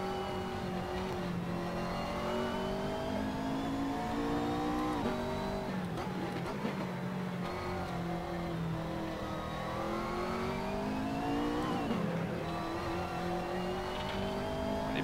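A McLaren race car engine in Assetto Corsa drones steadily, its pitch climbing and dipping through gear changes and corners, loud and continuous with no voices.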